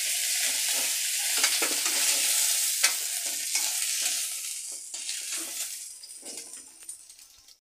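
Fish head frying in hot oil in a pan, the base for a mung dal, gives a steady bright sizzle with scattered pops and scraping clinks that slowly fade toward the end.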